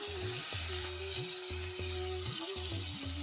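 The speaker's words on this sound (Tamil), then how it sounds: "கழுவி நறுக்கி சுத்தம் செய்த ஆட்டு நுரையீரல் துண்டுகளை இதோடு சேர்த்து நல்லா வதக்கி விட்டுடலாம்" Close sizzling and frying of goat lung pieces sautéing in a pan with repeated scraping stir strokes, steady and rhythmic, no talking.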